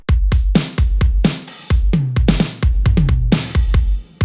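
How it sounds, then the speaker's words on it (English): A pop rock drum fill of rapid, punchy tom and snare hits with kick and crashing cymbals, rolling across several beats in a loud, busy burst with no voices. "I added this drum fill"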